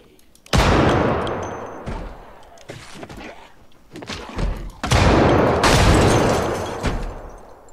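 Rapid gunfire in a video game, with enemies smashing through a firehouse's windows: loud, close bursts of shots and heavy thuds come in dense waves, briefly easing before another sustained volley.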